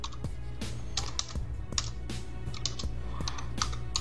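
A computer keyboard typed on during a coding session, with close, crisp key clicks landing in a quick irregular rhythm, including a Ctrl+V paste shortcut, over a low steady hum.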